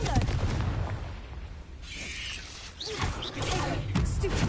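A Confringo fire spell blasts off in Hogwarts Legacy, heard as loud booming bursts under a steady wash of game noise and music, with a brief quieter lull partway through.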